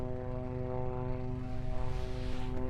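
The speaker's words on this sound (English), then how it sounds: "We will just wait for Igorus to bring his XA42 into land" An XA42 aerobatic plane approaches to land at an aerodrome in Northamptonshire after a championship, its propeller engine giving a steady, buzzing drone with a strong tonal hum, moderately distant and unbroken by talk.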